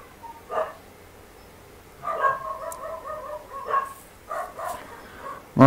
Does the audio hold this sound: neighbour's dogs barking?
yes